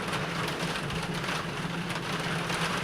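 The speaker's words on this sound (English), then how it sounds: "I've got rain coming" Steady rain falls outdoors, a dense, even hiss with no break or talk throughout.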